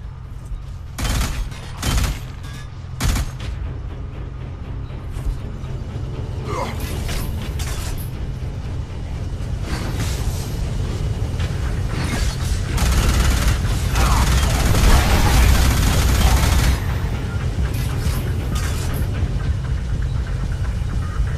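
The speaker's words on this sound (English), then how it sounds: "Minigun turret on the other side of the bridge. Go cover to cover, or it'll mow you down." Minigun turret fire in a video game: several sharp bursts at first, then a sustained, loud, rattling mechanical barrage that builds and stays dense for many seconds under creaking, clanking noises.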